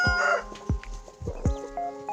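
A hen brooding turkey eggs gives several soft clucks and low grunts close by, with other faint fowl calls in the background.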